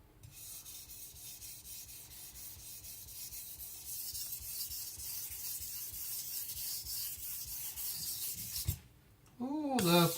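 A Shibata Kotetsu gyuto knife is drawn lightly across a coarse Shapton Pro 220 stone in steady, close scraping strokes, ending with a brief pause and a short clunk.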